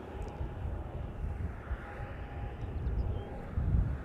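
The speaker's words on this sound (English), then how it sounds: "So that is KLM flight 605 to San Francisco." A KLM wide-body airliner departs Amsterdam Schiphol, its engine roar steady and broadband across the whole stretch, swelling slightly toward the end as it climbs away at moderate distance.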